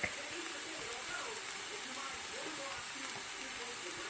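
Garlic sizzling in a pan while cooking a vegan keto dish, a steady, even crackling hiss that stays close and constant throughout.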